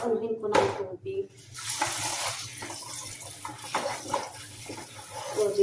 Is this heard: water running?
yes